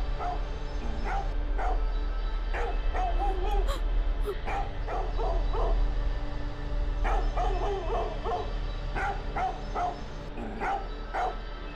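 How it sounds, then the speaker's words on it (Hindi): A dog barks repeatedly in short bursts, moderately distant, over a constant low hum, with small yips between volleys. "बहुत भौंक रहा है, जाकर देखो उसे जरा"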